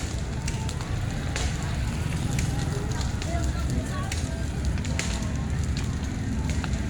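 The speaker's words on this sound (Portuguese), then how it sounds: "O fogo tá bem alto mesmo" A large São Pedro bonfire burns with high flames at an outdoor festival in Timbaúba, Pernambuco. It makes a dense, continuous roar with scattered crackles and pops, loud and close throughout.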